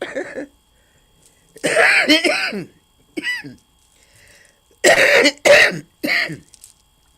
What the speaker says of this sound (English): I apologize because I do have a little cough.